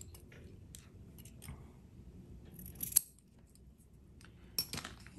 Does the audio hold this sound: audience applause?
no